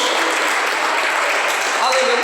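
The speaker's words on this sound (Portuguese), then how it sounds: "Mais forte, irmão, mais animadinho as palmas" Steady, loud clapping from a congregation in a church service, a continuous wash of many hands with no break.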